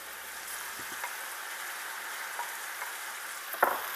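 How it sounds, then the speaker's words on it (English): Venison sizzles steadily in hot oil, a continuous crackling hiss with a few sharper pops and a utensil clink near the end. "get that oil really hot so when you pour in your venison, it sizzles."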